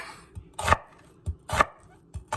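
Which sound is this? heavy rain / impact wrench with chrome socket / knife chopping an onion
knife chopping an onion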